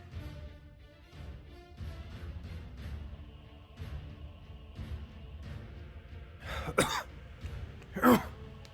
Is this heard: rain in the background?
no